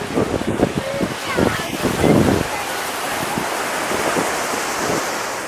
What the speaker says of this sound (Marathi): त्याला असा लाटा बघताय आपण कशा जोरात उसळत आहेत.